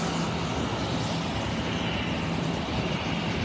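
The engines of an arriving Airbus airliner, the "Pride of Suriname", run on the apron, giving a loud, steady broadband jet roar with a faint low hum throughout.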